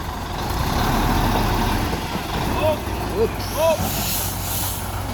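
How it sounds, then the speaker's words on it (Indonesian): A Volvo FH16 truck hauling a 48-ton load rumbles low and steady as it maneuvers through a tight bend in Kelabuhan, with brief hissing bursts near the end and people talking over the engine noise. "susah truk ini melewati tikungan di Kelabuhan."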